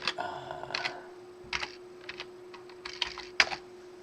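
Fingers tap on a computer keyboard in irregular short clusters of clicks, close and fairly quiet, with a faint steady hum underneath.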